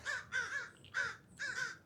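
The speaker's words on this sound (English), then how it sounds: "Crows are active." Crows caw four times in quick succession near a beach pathway at sunset, loud and close, each call harsh and evenly spaced.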